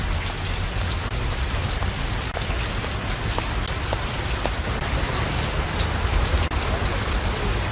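Steady, dense rain pouring down without pause, a constant hiss of drops hitting surfaces with occasional sharper spatters.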